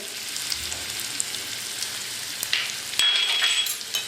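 Asafoetida, ground masala and turmeric sizzle in hot oil as a tempering for spicy kat vada curry, a steady close frying hiss with a sharper crackling burst near the end.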